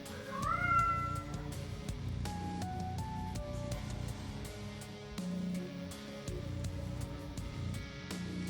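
Vega the cat lets out a rising, drawn-out meow near the start, then quieter mews over a steady low background bed.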